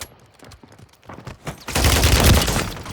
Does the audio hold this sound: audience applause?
no